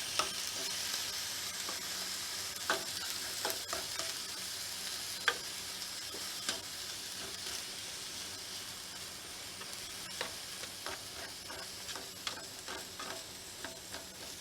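Peppers sizzle quietly in a pan while a utensil stirs them, giving a soft steady frying hiss punctuated by faint scraping clicks, with no talking.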